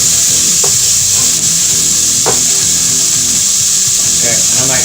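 Peppers fry in a little bacon and sausage grease while being stirred, a loud close sizzle with scraping and a few sharp knocks from the stirring, steady from start to finish.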